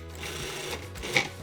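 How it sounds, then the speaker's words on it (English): A food processor pulses fresh mint and herbs for salsa verde, giving a steady, moderately loud motor whir for about a second and a half with a brief surge near the end. "Give the herbs a couple pulses."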